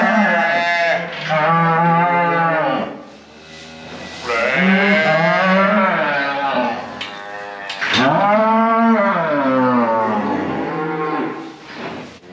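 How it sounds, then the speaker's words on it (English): A protective beef cow with her newborn calf on a farm, giving long, loud, close moos in three drawn-out calls with brief pauses between them and almost no other sound. "Now the calves are very vocal."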